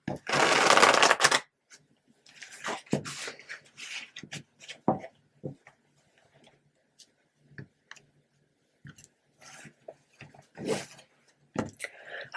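Tarot deck riffled and shuffled during a card reading, a dense burst of card flutter at the start followed by scattered soft taps and slides of cards, with quiet speech in between.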